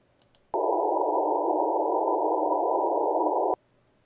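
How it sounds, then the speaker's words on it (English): Steady band-limited noise spanning roughly 300 Hz to 1 kHz, a hissy midrange rush that switches on sharply, holds evenly for about three seconds, then stops abruptly. "the noise between 300 and 1 kilohertz"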